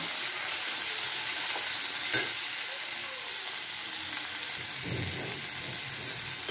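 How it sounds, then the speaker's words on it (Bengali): Diced mango pieces fry in a pan with a steady, close sizzle, broken by a sharp utensil clink and occasional stirring scrapes, with no voices. "আমগুলো দিয়ে আমি ভালো করে ভেজে নেব"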